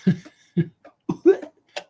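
A voice imitating a cough: several short, throaty bursts in quick succession, close and fairly loud, with brief gaps between them.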